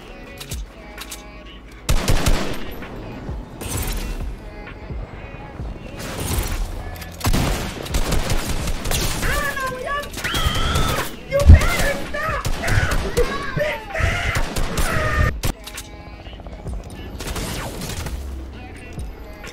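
Burst gunfire in a first-person shooter video game on PC, repeated loud bursts of rapid shots, close and punchy, with a player talking over parts of it.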